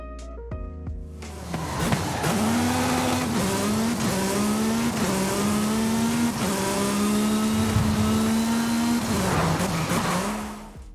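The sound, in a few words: car engine revving in a video game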